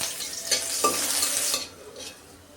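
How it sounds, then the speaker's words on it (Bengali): Onion drops into hot oil for a tempering, a close, bright burst of sizzling and stirring that fades to a quieter hiss after about a second and a half. "একটু বাগার ওঠানোর জন্য একটু পেঁয়াজ দিয়ে দিলাম"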